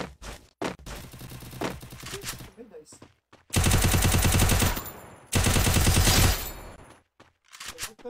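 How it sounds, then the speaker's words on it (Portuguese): Bursts of rapid gunfire in the Free Fire mobile shooter game, loud sustained automatic volleys in two long stretches with shorter rattles between, alongside players talking. "Nossa, quanto tiro no beco desse cara agora."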